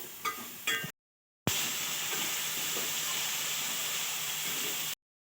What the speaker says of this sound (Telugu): ధనియాల పొడి యాడ్ చేసుకోండి. ఇది కూడా కొంచెం కలిపేసుకోవాలి.